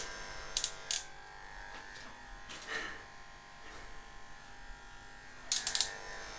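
Electric hair clippers run during a home haircut, giving a faint, steady buzz with a few brief, louder bursts and no talk.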